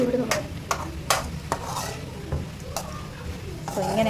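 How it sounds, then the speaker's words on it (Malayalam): A spoon stirs a red lime pickle mixture sautéing in a pan, with a gentle steady sizzle and sharp repeated scrapes and clinks against the metal, close and clear. "സോ ഇത് നന്നായിട്ട് വഴറ്റുക."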